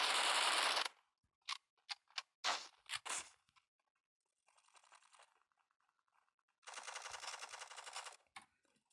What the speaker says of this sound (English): we just mowed those guys over with the AK.